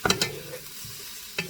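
A spoon stirs cayenne pepper and spices into a pot of chili-lime black bean soup, with a couple of quick scraping strokes, a soft simmering hiss between them, and another scrape at the end.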